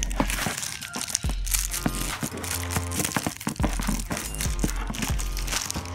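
A cardboard package being torn open and crumpled during an unboxing, with continuous close crinkling and tearing and repeated sharp cracks and rips throughout.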